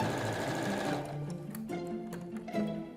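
A sewing machine stitches seams on hand-printed fabric blinds, first a fast steady whirring run, then it slows into shorter, uneven bursts of stitching, close and fairly quiet, with no voices.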